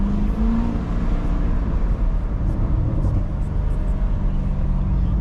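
A Chevrolet Corvette C7 cruising along the Pacific Coast Highway, its engine droning steadily and closely with a low, continuous exhaust rumble throughout.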